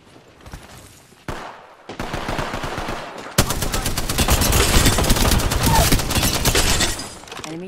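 Video game gunfire in loud bursts of rapid automatic shots, some short and then a dense continuous volley that fills most of the stretch, with brief gaps between bursts.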